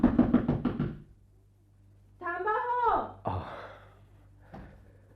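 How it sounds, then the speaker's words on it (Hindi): Five quick knocks rap on a door in a steady burst at the start, loud and close, followed by quiet and then a few vocal sounds. "फिर दरवाजा खटखटा के देखता हूं।"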